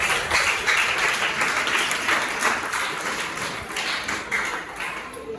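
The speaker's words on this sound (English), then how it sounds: "You give them a round of applause." Secondary school students give a round of applause, a dense, steady wash of clapping that holds evenly from start to finish with little talk.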